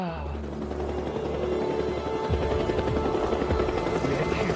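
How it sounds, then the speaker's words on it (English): Helicopter in the video game Days Gone, a steady low rotor drone that stays loud and near throughout, with a thump near the middle and busy game sounds layered over it. "We actually found one of those helicopters."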